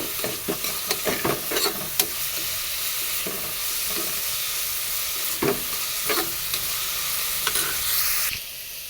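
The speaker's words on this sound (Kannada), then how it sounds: "ಇದ್ರ ಜೊತೆ ಈರುಳ್ಳಿ ಫ್ರೈ ಆಗೋಕ್ಕೆ ಸ್ವಲ್ಪ ಉಪ್ಪು ಹಾಕಿ ಚೆನ್ನಾಗಿ ಫ್ರೈ ಮಾಡ್ಕೊಳ್ಳೋಣ" Onions fry with salt in oil in a cooker alongside fennel seeds, cinnamon and cloves, a steady close sizzle with repeated scraping stirs of a spoon against the pot.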